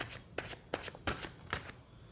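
Tarot cards shuffled by hand in a few quick riffling bursts, close and fairly quiet, with short pauses between each flurry and no talking.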